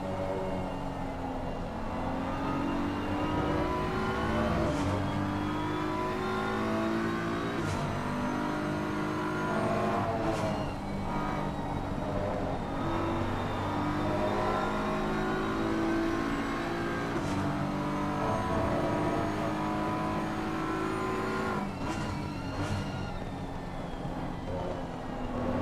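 Race cars at full throttle around the Spa circuit, loud and continuous, with engine notes rising and falling through gear changes and several cars sweeping past over a steady roar, with no talk.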